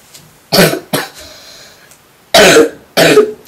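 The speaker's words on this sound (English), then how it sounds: "Sorry about my cough and stuff." Four sharp, close coughs from a sick person in two pairs, with a short pause of quiet breathing between them.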